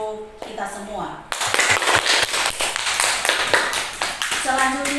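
Applause from a class audience follows a group presentation, a dense burst of clapping hands that starts after a brief spoken lead-in and keeps going steadily to the end, loud and close.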